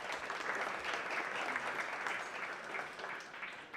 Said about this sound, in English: So I think everyone should get a round of applause for one another for that